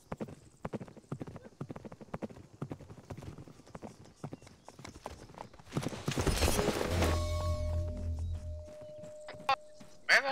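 Hooves of video game cavalry clip-clop in a fast, steady rhythm during a charge, then a swelling rush of noise and rumble builds toward the end, with occasional sharp clicks.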